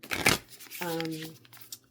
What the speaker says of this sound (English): So, shuffle this really quick.